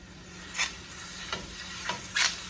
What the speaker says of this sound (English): the pan is really hot, because you want to get a nice crispy, not too crispy, but a nice browning on that.